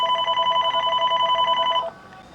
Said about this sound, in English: And the phone call, President Nixon on the phone.